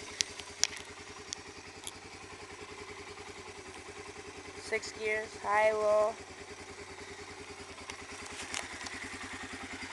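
A 1985 Honda Fourtrax 250 ATV engine idles steadily with a low, even mechanical thrum throughout, while someone talks briefly over it near the middle.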